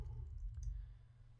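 Mouse clicks while selecting layers in After Effects: a couple of small, soft clicks sitting over a steady low hum, quiet and close, with no talking.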